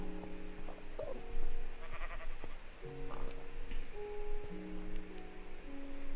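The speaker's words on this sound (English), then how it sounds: "There's a sheep in my little window thingy." A Minecraft sheep bleats a few times, moderately near, over a steady background of game music notes and ambience, with no talking.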